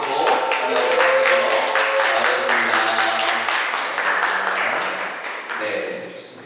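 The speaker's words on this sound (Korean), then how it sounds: "잠깐 자리에서 일어나시면 박수 부탁드려요." A church congregation applauds with scattered, moderately loud clapping that carries on for several seconds while some voices and a tonal background sound continue underneath, then fades slightly.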